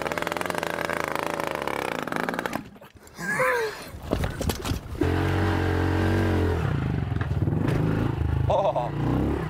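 Dirt bike ridden over a step-up jump, the engine revving hard, dropping out briefly in the air, then roaring back loud and close after landing, with no talking.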